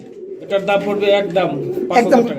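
Fancy pigeons coo in soft throaty, repeated phrases close to the listener, with a person's voice mixed in among the bubbling calls.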